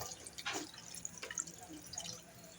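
Water poured into a cooking pot while making pork adobo humba, a brief faint splash and drip of liquid with no talk.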